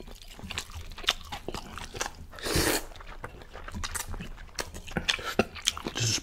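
Someone eats spicy chicken ramen up close, with a stream of wet chewing, soft crunchy bites and slurping clicks, and one louder burst near the middle.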